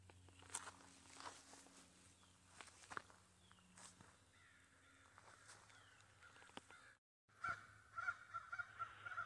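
Crows perched in trees along the Appalachian Trail give scattered harsh caws, mostly faint and distant, amid nearby footsteps and a low steady outdoor hum.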